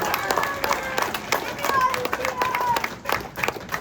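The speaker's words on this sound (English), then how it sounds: "Round of applause for Sean." An audience at an organization's event applauds, with scattered claps rising and falling under nearby talking voices for a few seconds.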